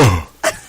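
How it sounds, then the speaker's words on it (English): A single close, loud throat clearing, a rough guttural rasp that trails off and ends in a short second catch. "Let me clear my throat."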